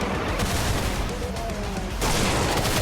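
Rapid gunfire and explosive bursts from a 16-bit retro shooting video game, a dense, loud, continuous barrage with a sharper burst near the end.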